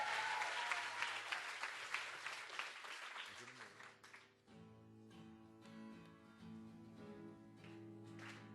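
An audience at a live acoustic radio showcase bursts into loud applause that fades after about four seconds, giving way to soft acoustic guitar as someone speaks.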